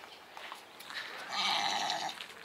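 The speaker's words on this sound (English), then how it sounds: "Nigerian dwarf goat." Nigerian dwarf goats at a small roadside stop on the drive from Moab to Chinle, one letting out a clear, nearby bleat of about a second over quiet background sound.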